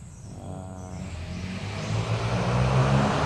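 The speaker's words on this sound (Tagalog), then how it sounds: "ingay ng motor, umabot na yung ingay dito." A motorcycle on a nearby road in a quiet hilly area approaches with a rising engine drone that grows steadily louder and closer over a few seconds, with no talking over it.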